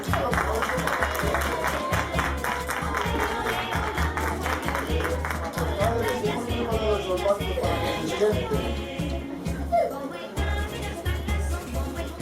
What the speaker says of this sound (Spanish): vamos a darle un aplauso a los reyes que han venido a vernos